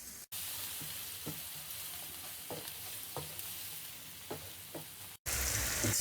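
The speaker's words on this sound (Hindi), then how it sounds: "हल्का सा हम इसको फ्राई करेंगे।" Green chillies fry with biryani masala in a pan, a soft steady sizzle with scattered light taps and scrapes of stirring, briefly cut off near the start and again near the end.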